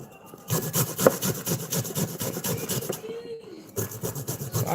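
Ginger root scraped by hand, a steady run of dry, rhythmic rasping strokes close up, with a brief pause partway before the scraping resumes.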